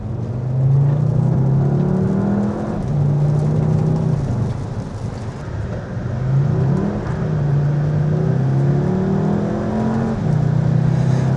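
A Volkswagen Jetta GLI with a DSG gearbox creeps forward in slow traffic. Its engine gives a close, low, steady drone that rises and falls gently several times, with no talking over it.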